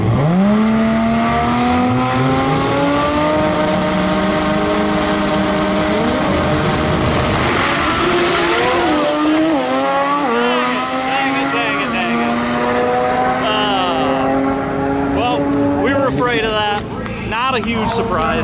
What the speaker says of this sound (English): All right, buddy, she spun the tires.